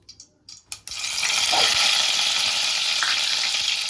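Curry leaves dropped into hot oil for a prawn egg curry: a few light clicks and taps, then a sudden loud sizzle that bursts up and holds as a steady, close crackling hiss.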